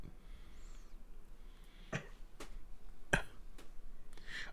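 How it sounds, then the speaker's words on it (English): A brief cough bursts out near the microphone during a Magic Online Double Masters draft, followed by a couple of softer throat sounds over faint background hiss. "I'm going to make fun of you for coughing."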